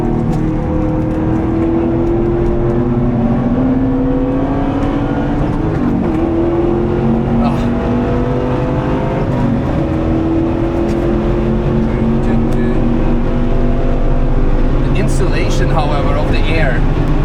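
Porsche 928 driven hard on the Nürburgring in fourth gear, its engine droning loudly from inside the cabin as the pitch climbs and drops through shifts, steady wind noise beneath, with someone talking over it.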